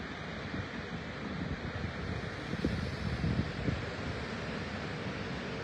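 Ocean surf washes at the shore near London Bridge on a summer morning, a steady broad rush of breaking waves with a slight swell midway, mixed with wind buffeting the microphone.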